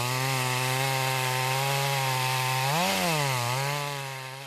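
Chainsaw cutting a rain-soaked, fifty-year-old larch tree on a mountain logging site, a loud steady engine drone that dips in pitch briefly as the blade bogs in the wet wood, then recovers and fades slightly.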